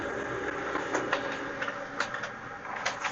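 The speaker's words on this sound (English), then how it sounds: "Now the printer started making sounds, it means it's working." An HP LaserJet Pro MFP M28w printer running a copy job, giving a steady mechanical whir with a string of soft clicks and clatter at close range and no talking.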